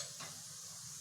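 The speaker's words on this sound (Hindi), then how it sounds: "तेल हमारा गर्म हो गया है। अब इसमें हम ये जीरा डाल देंगे, हल्दी पाउडर डाल देंगे" Cumin seeds and turmeric powder sizzle in hot oil with a steady frying hiss, close and soft, over a short stretch with no voices.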